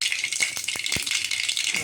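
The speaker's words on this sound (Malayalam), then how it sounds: "ഞാനിപ്പം വെളിച്ചെണ്ണയാണ് ഒഴിക്കുന്നത്. കടുക് ഇട്ട് കൊടുക്കുക." Mustard seeds dropped into hot coconut oil in a pan for a drumstick-leaf curry, a close, bright crackling sizzle with rapid irregular pops and rattling bursts throughout.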